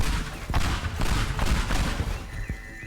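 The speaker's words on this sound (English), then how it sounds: "Just keep throwing these pipe bombs till we run out." Pipe bombs exploding in the video game Teardown, a rapid string of dense, loud blasts and crackling bursts following one another continuously with no talk.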